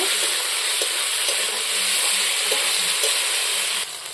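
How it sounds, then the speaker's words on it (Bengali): Masala being sautéed in a pan with jackfruit and egg, a loud, continuous sizzle of frying with occasional soft stirring clicks, close up and steady, easing slightly at the end. "এসবের সঙ্গে আবারও আমি মশলাটাকে ভালো করে কষিয়ে নেব।"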